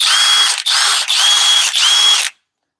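A cordless drill set to speed 2 in drill mode runs loud and close in four steady bursts separated by brief dips, then cuts off into silence.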